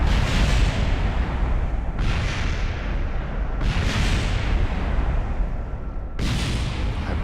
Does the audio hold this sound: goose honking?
no